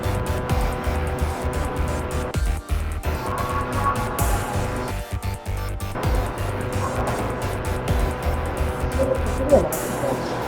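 A Yokomo RPX2 radio-controlled drift car running on a track after setup, its electric motor whining and revving with rapid rises and falls, tires squealing through slides. The sound is loud and continuous, with people talking over it.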